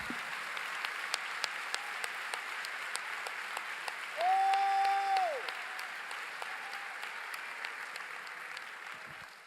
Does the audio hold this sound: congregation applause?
yes